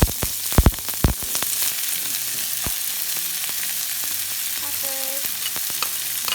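Peppers sizzling in hot sesame oil as they are stir fried with calamari and red beans, a loud, continuous broadband sizzle opened by a few sharp clanks of a utensil against the pan.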